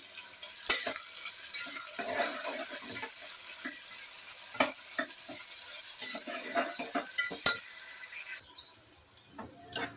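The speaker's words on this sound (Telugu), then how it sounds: "లైట్ గోల్డ్ కలర్ వచ్చి ఫ్రై చేసుకుందాము." Onions sizzle in a pan as they are stirred toward light golden for a brinjal, drumstick and potato curry, with a continuous frying hiss and irregular scraping clicks of a spoon against the pan.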